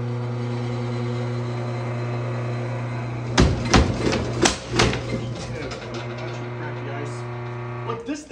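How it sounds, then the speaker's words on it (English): Power hammer blows striking a Stopbox Pro lock box in a shop: about five loud, sharp metallic impacts close together near the middle, over a steady mains hum, with a couple of fainter knocks at the end. "I've smashed the crap out of it with a fucking power hammer, and it still won't open."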